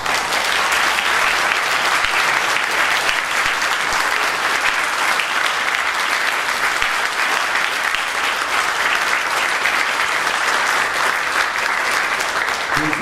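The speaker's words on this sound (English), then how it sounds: "I would like all the people who were involved in that to stand up and receive your due applause" A church congregation applauds steadily for the people who planned a 50th anniversary celebration at Atonement Lutheran Church, the dense, even clapping filling the whole stretch with no voices on top.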